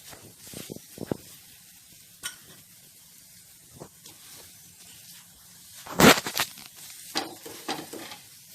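Methi paratha fries in oil on a pan with soft, intermittent sizzling and scraping as it is flipped and oiled. One sharp crackle stands out near the end, and no one speaks.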